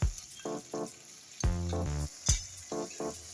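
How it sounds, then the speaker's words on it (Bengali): Mutton browning in a hot pan, steady sizzling and frying with intermittent louder spits and stirring scrapes, close and continuous across a few seconds with no talk. "মাটনটা এবার কষে নিচ্ছি একটু কিছুক্ষণের জন্য"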